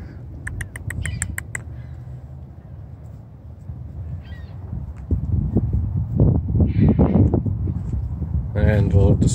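Canada geese at a city park give a few short honking calls near the start and again toward the end, over steady outdoor noise, footsteps and people talking nearby.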